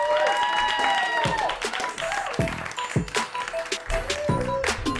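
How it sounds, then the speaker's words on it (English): A comedy club crowd applauds steadily, the clapping loud and continuous throughout with a few whoops rising over it. "One more big round of applause for Lyssa Laird, ladies and gentlemen."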